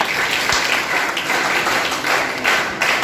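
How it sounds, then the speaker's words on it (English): An audience at a school science exhibition claps steadily, a thick, even wash of applause from many hands with slight swells, with no talking over it. "I want you to have a thunder of claps for you guys."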